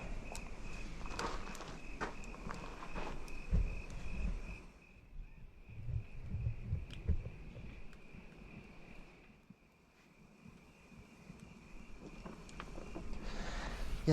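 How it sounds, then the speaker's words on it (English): Crickets chirp at dusk as a thin, steady high trill running the whole length, beneath nearby footsteps, rustling and light wind noise, with no one speaking. "Crickets are starting to come out."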